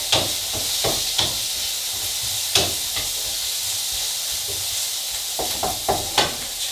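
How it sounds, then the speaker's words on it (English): An omelette with chilli and mushroom fries in coconut oil, giving a steady close sizzle and hiss broken by scattered sharp crackles and light stirring taps, with no one talking. "It's frying in coconut oil"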